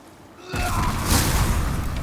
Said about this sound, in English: good thing that didn't have much of a explosion radius